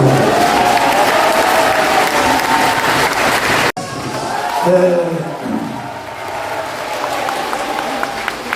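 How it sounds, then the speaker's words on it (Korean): Applause from a crowd at a Korean political and religious gathering, loud and dense, with a sharp break partway through and a voice rising over the continuing clapping. "박수로"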